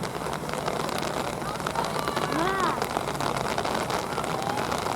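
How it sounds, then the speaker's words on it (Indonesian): Rain falls steadily during an outdoor football match, a dense continuous hiss spread over the whole stretch, with a voice talking faintly underneath. "Hujan yang turun bergugur"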